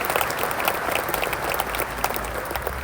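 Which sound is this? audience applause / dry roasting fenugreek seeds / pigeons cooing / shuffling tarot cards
audience applause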